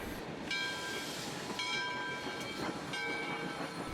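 A Southern Railway bootleg steam train whistle gives short, fairly faint tonal blasts at regular intervals over a steady rushing background, with no speech.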